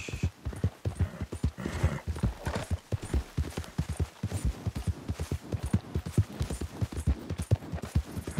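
Horse hooves clip-clopping at a steady trotting rhythm, close and continuous, while riding in the video game Red Dead Redemption II.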